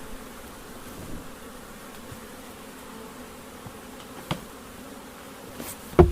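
Honey bees buzzing around an open long hive as it is reassembled, a faint, steady hum of insects with a few soft knocks and a louder bump at the end.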